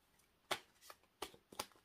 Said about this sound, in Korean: 카드를 한번 뽑아볼게요